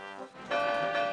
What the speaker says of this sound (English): Listen to my bell, Sir Handel," whooshed Duncan.